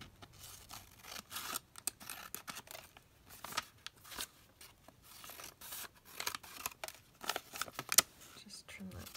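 Paper ephemera cut with scissors, close and quiet: a run of small crisp snips and paper rustles in an irregular rhythm, with a soft voice murmuring in places.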